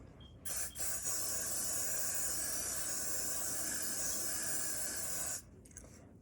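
Aerosol spray misted onto a wig in one long continuous hiss of about five seconds, close and even, starting and stopping abruptly.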